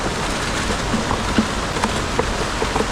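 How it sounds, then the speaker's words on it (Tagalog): Heavy rain pours down at an old dam during a fishing outing, a steady broadband wash with scattered sharper drop hits throughout and no talk over it. "Yan, yung lakas na rin ng ulan."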